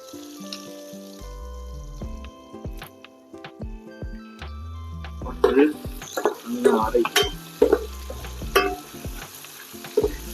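Onions frying in a pan for Pallipalayam chicken sizzle under brisk stirring and scraping, the clatter growing louder halfway through, close up with no talking.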